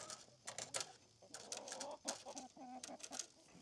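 Chickens in a custom-made mobile coop cluck and squawk in short, irregular bursts, fairly close but soft, with several birds calling over one another.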